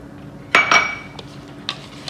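A bowl and utensil clink and knock as raisins are added to oatmeal cookie dough: two loud close clatters, then a few lighter taps, with no talk.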